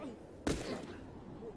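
A single sharp gunshot from The Last of Us video game cracks out once against a near-silent background, brief and fairly faint.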